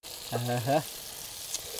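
Tempering (talimpu) sizzles softly in a pan at a hilltop campsite in Araku, a faint steady hiss that continues after a short burst of a person talking near the start.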